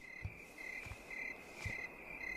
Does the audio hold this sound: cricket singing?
yes